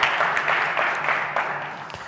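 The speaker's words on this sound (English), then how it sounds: "We can give them a round of applause." An audience at a politics innovation forum applauding, a dense, continuous patter of many hands clapping at moderate loudness, with a faint voice under it.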